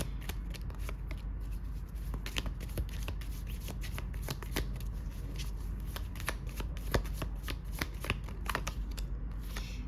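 Tarot cards are shuffled close up in a quick, crisp run of papery riffles and flicks that continues steadily throughout, with no voices.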